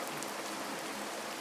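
Steady, dense rain falls outside a village house, a close, even hiss of heavy downpour with no voices and no breaks.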